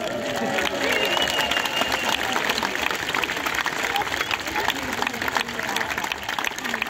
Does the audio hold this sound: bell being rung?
no